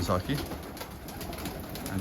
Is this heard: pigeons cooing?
yes